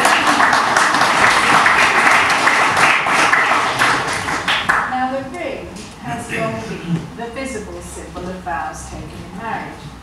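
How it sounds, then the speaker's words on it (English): Wedding guests applaud during a ring ceremony, a dense burst of clapping filling the first half before fading out as speech takes over. "Beautifully done. Round of applause for that."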